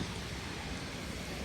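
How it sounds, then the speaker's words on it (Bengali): Rain falls steadily outside a roadside hotel, a soft, even hiss of broadband noise with no other distinct sounds. "বৃষ্টি হচ্ছে,"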